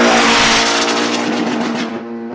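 A Mazda Miata with its downpipe-to-crossover connection undone roars past on a race track, its exhaust blaring loud and raspy at high revs before the note fades and drops away.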